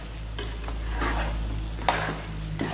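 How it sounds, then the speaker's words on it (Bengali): Mutton curry being stirred in a pan, with a spoon scraping and turning the thick mixture over a steady low sizzle, two or three sharper scrapes standing out near the end. "আর একবার নাড়িয়ে নিয়ে"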